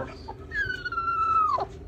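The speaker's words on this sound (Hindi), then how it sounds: "हमारी मुर्गी पूरे तरीके से कुड़क है और अंडों पे बैठ गई है" A broody Aseel hen sitting on eggs gives a single drawn-out, descending call, fairly close and clear against a quiet background.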